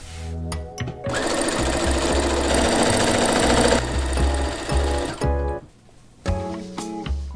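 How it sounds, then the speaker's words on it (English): Sewing machine stitching the darts and side seam of a boat neck dress, a loud, close, steady mechanical whir running several seconds before stopping, followed by a few short clicks and bursts of stitching. "sew the side seam together, one of the side seams"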